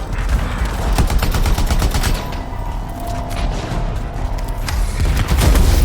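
Gunfire in the video game Anthem, dense rapid bursts of shots and impacts crackling continuously throughout, loud and close.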